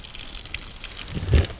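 Beaver hides being dropped into a tub of salt water give soft watery sloshing and trickling, ending in a louder splash near the close, with no speech.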